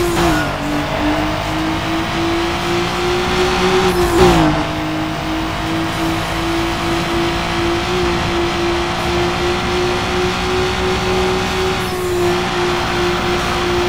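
A racing car engine in Need for Speed Underground 2 holds a steady, high-revving drone with one sharp gear-shift dip midway and another near the end, loud and continuous with no talk.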